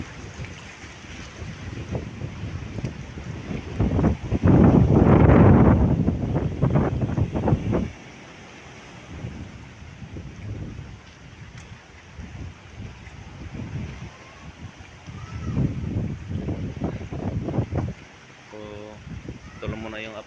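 Typhoon Kristine drives strong gusts and heavy waves against a rocky shore, with roaring wind buffeting the microphone in loud surges around the middle and again near the end, and crashing surf and water rush between them.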